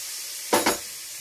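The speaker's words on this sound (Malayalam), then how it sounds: "ഇതിനകത്തോട്ട് നമുക്ക് തക്കാളി ചേർത്ത് കൊടുക്കാം." Chopped tomatoes hit a hot pan of cooked-down spice powder for a soya chunks roast, giving two quick bursts of sizzle over a quiet background hiss.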